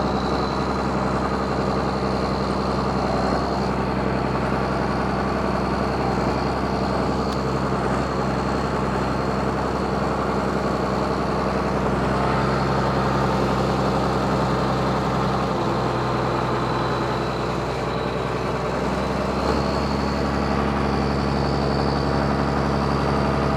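An engine-swapped Ford 8700 tractor drives along with a continuous heavy low engine drone and a steady high whine, the pitch easing and lifting slightly over time; no voices are heard.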